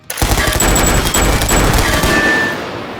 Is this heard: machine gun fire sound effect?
yes